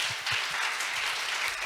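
A student forum audience at a youth peace and diversity session in Jeju claps for the student presenters, a dense, steady wash of applause from many hands filling the room with no talk over it.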